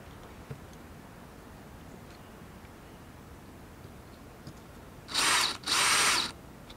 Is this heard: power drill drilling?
yes